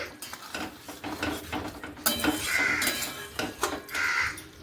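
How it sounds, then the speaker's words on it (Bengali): Okra curry finished with ghee gets stirred in a pan, with short scraping and clinking utensil strokes over a light sizzle, close and moderately loud. "ঘি দিয়ে আমি হালকা করে নেড়ে নিচ্ছি"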